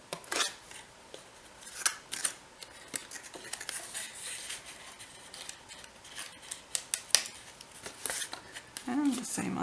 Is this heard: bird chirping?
no